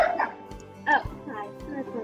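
Pet dogs make short yips and whimpering barks in a couple of brief bursts, heard close alongside a person's voice speaking.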